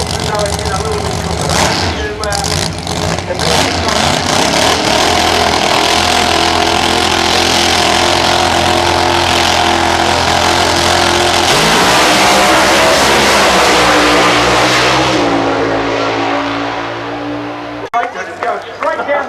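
A drag racing car at Perth Motorplex roars loudly and continuously, its engine revving hard and building through a long launch run down the strip, with a commentator talking throughout.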